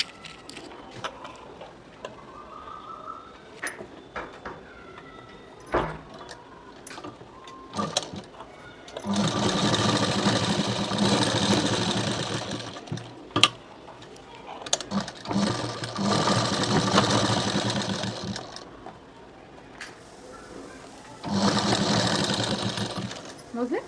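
A sewing machine stitches a kids' blouse in three long, loud bursts of rapid whirring, separated by quiet gaps filled with handling clicks and someone speaking.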